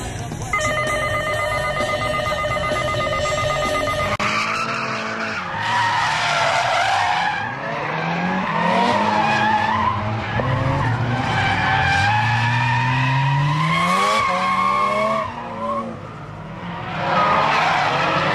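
Two Mazda FC RX-7 cars, one white with a large HKS turbo kit, drift in tandem at Mobara, tires squealing in long loud wavering screeches over rising and falling rotary engine revs.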